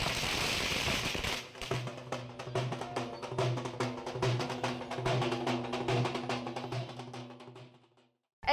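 Firecrackers bursting at a street victory celebration in Kalyan, with a halgi drum beat, sounding as a dense run of sharp crackling pops over steady rhythmic drumming, loud and continuous before cutting off near the end.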